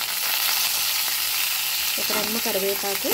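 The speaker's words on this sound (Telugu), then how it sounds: "ఇవంతా కాస్త తిప్పుతూ ఫ్రై చేసుకోవాలి." Cumin seeds and curry leaves fry and get stirred in hot oil for Chettinadu-style tomato chutney, giving a steady, close, loud sizzle throughout with faint stirring scrapes toward the end.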